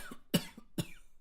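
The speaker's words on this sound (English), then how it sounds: "When he or she coughs," A person coughs two sharp, close coughs about half a second apart, with a faint softer cough before them, in a quiet room.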